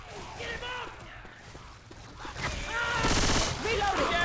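Left 4 Dead 2 gunfire crackles in mid-distance, growing into a louder rapid burst near the end, with voices talking over the shooting.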